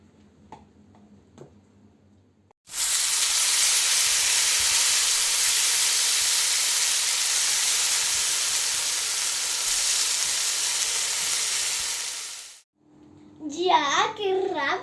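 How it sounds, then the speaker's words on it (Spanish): Tortilla frying in a pan with oil: a loud, steady sizzling hiss that starts abruptly and holds for about ten seconds, then cuts off, with quiet talking before it and a voice just after. "vamos a coger una sartén, un poquito de aceite y vamos a hacer la tortilla"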